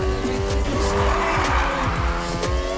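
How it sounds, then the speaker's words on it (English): A car drifts through a corner in Need for Speed Heat, loud continuous tire squeal over a revving, rapidly shifting engine note, with no talking. "Keep that drift going. That slide was sweet."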